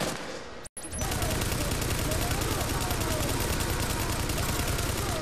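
Sustained light machine gun fire in The Division's Dark Zone, a dense, loud, continuous rattle of rapid shots that starts after a brief cutout and runs unbroken to the end.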